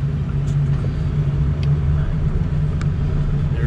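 A 2006 Ford F250 diesel 4x4 truck idling and shifting into four low, heard from inside the cab as a steady low engine rumble, loud and continuous, with a few faint clicks.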